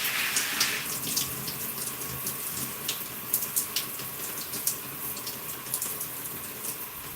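Water runs steadily from a tap or spray onto hair during a wash-and-go styling session, a continuous close hiss with scattered splashes and drips, no talking.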